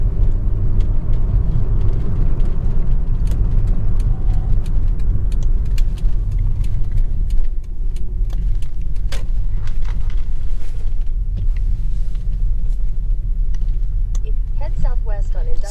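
A Volvo 850 car on back roads gives a steady, loud low engine and road rumble from inside the cabin, with brief clicks and a faint chirping near the end.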